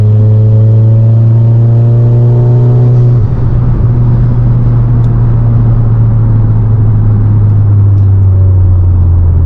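Loud 600 bhp Volkswagen Golf R engine under heavy acceleration in sixth gear, a deep steady drone with rising tones, then a gear-change dip and sustained roar with road rumble.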